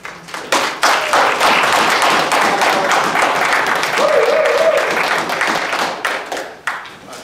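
Audience applause breaks out at a university sorority research colloquium after a guest speaker is introduced. Dense, steady clapping fills the room for most of the stretch, then thins and fades near the end.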